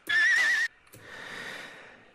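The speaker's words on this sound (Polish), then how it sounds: "to jest rżenie konia z jednego z klasycznych utworów" A horse neighs in a sharp, loud whinny sampled from a classic soul track, followed after a brief gap by a softer, breathy snort and trailing exhale.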